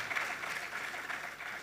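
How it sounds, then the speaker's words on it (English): An audience claps for a panel of speakers at a conference session, steady, dense applause filling the short moment at an even level with no voices over it. "I think my panelists really deserve a good round of applause."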